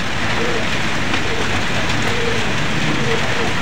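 Steady rain pours down over a loft where wet racing pigeons return, a dense hiss of drops hitting surfaces throughout, with a voice speaking faintly beneath it.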